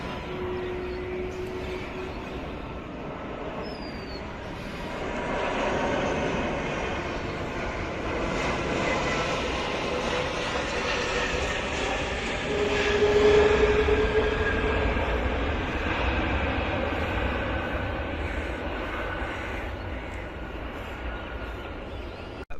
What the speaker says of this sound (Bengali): ঢাকায় অবতরণের জন্য এগিয়ে আসছে ইউএস বাংলা এয়ারলাইন্সের সবচেয়ে বড় বিমান Airbus A three three zero